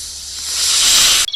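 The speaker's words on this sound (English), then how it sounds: "snake" Snake hissing, a single loud, close, drawn-out hiss that swells in strength before cutting off abruptly at the end.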